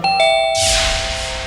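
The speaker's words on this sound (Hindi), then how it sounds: "फिर अचानक से घंटी बजी" A doorbell chimes indoors: a bright two-note ding-dong with clear ringing tones, followed by a hissing wash of background noise that trails off.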